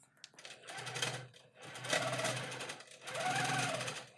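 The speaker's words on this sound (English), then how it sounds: "And I am just going to free motion." A longarm quilting machine stitches free motion in fast rattling bursts that stop and restart three times, with a low motor hum, while people talk quietly in the background.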